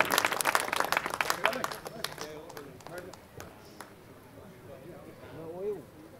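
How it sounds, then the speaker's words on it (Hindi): Clapping from the audience at a Hindi kavi sammelan poetry gathering, welcoming a poet to the stage. A burst of claps comes first, then fades as a voice talks over it. "एक बार जोरदार तालियां बजाइए भाई डॉक्टर सत्येंद्र सत्यार्थी जी।"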